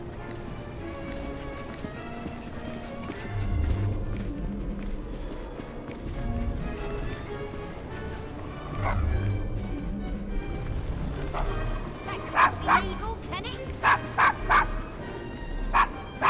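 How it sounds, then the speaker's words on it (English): A dog barks in Assassin's Creed Syndicate, several sharp, loud barks in quick bursts toward the end, over ambient game sounds and brief talk. "Is your dog quite all right?"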